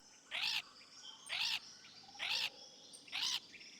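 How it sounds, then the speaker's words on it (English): A parrot in a video game making funny sounds: four evenly spaced, bright rising squawks, each about a quarter second long, repeating at a steady rhythm over a quiet background. "I got a bit distracted by the funny sounds the parrot makes."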